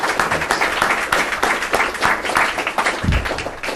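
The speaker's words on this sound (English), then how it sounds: "Please join me in a round of applause to thank Minister Kouvelis for a terrific presentation." Audience applause at a policy presentation on Greek foreign policy, a steady dense wash of many hands clapping through the whole stretch, fairly close and even in level with no talk over it.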